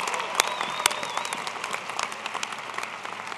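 Applause from a crowd at a university winter commencement ceremony, a steady spread of clapping with a few sharper close claps near the start, moderately loud throughout.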